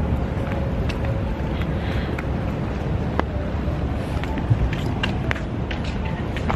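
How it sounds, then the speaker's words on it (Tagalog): Steady, rough wind buffeting the microphone throughout, a constant low roar with faint scattered clicks and no clear voices. "Lakas ng hangin."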